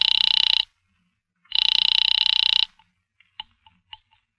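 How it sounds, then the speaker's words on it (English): A telephone rings in an old radio drama: two loud, sustained electric bell rings separated by a short pause, then quiet clicks. "I'm ringing Miss Blake's apartment."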